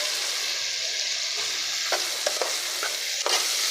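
Masala sautés in a hot pan with a steady broadband sizzle, while a spoon scrapes and stirs it in a few soft, irregular strokes; close by, no talking.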